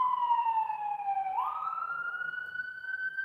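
An emergency vehicle siren wails steadily nearby, its pitch dipping and then climbing again, continuous throughout with no voices.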